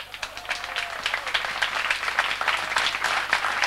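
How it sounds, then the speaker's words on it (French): Audience applause from a crowd at a 1993 Madiran rally event, a dense steady patter of many hands clapping at moderate volume, alone without talk. "les applaudissements, moi je n'en ai pas besoin"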